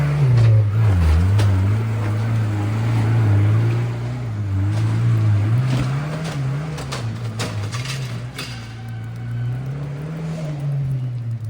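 An off-road vehicle crawls up a snowy boat ramp at Elbe Hills ORV area, its engine droning loud and steady with a low, wavering pitch as it revs and shifts through gears, close throughout.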